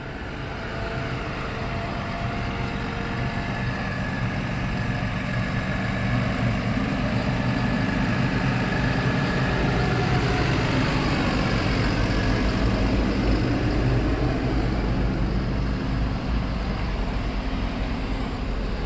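A Versatile tractor's engine runs steadily during a tall-corn harvest, a heavy low diesel rumble holding close and constant for the whole stretch with no voices.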